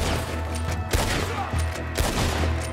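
Gunfire in the video game Red Dead Redemption 2: a steady string of sharp shots spread across the stretch, each a short crack over a dense, busy background.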